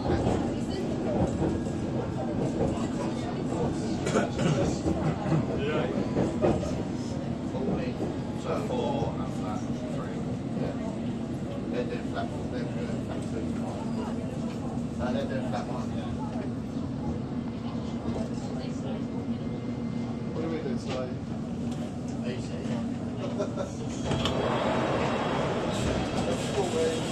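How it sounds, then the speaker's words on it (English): A London Underground Hammersmith & City line train runs steadily with a continuous low rumble and rolling rail noise, loud and close, with a brief rise near the end and voices faintly mixed in. "This is a Hammersmith City Line train to Barking."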